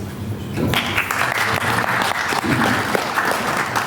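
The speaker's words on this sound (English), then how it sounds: "please join me in giving them a warm round of applause" An audience at a scientific conference applauds women in science, a close, steady round of clapping that holds at an even level for a few seconds.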